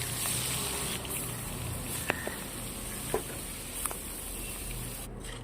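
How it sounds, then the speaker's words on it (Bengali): Prawns fry in a pan with a steady, close sizzle throughout, broken by a few faint clicks of a utensil against the pan. "এভাবেই আমি বাকি মাছগুলো ভেজে নেব"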